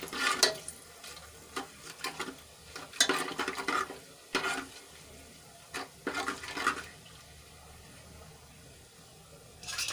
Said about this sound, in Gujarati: અધકચરા ખાંડી એ એડ કરી દઈશું અને તેલમાં સાંતળી લઈશું